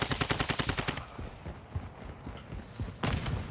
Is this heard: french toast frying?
no